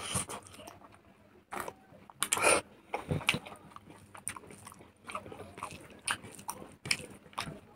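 Someone eats smoked pork at close range, with irregular bursts of wet chewing and biting that rise and fall, and brief crunchy accents mixed among quieter mouth sounds.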